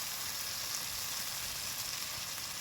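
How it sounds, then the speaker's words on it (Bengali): Sour curd dropped into hot oil with asafoetida and frying spices for an eggplant dish, a loud, dense, continuous sizzle heard close up with no break. "এর মধ্যে দিয়ে দেবো টক দই"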